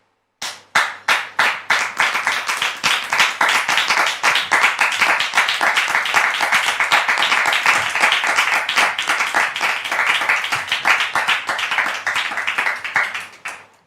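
A studio audience claps warmly to welcome a guest onto a talk show, a dense, steady round of applause that starts sharply and holds for about thirteen seconds with no voices over it.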